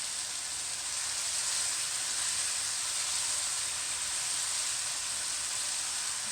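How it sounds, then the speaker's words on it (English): Garlic and jalapeno sizzle in a hot seasoned cast iron pan, a steady bright frying hiss that holds even and unbroken throughout, close and fairly loud with no talking. "whoa, it's sizzling"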